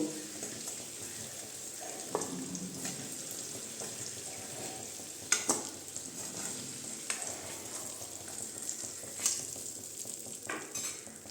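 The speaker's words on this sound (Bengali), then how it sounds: "মূলা আর আলু আমাদের ভাজা হয়ে গিয়েছে, আমি এখন এটাকে তুলে রেখে দেব।" Radish and potato pieces fry in hot oil, giving a steady close sizzle with occasional sharp crackles and pops, plus faint stirring scrapes through the frying.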